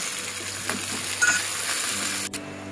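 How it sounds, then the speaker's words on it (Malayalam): Curry leaves fry in oil for a coconut beef curry, giving a soft continuous sizzle with a few light scrapes and a sharp knock near the end. "ഇനി ഇതിലേക്ക് കറിവേപ്പില വറുത്തെടുക്കാം."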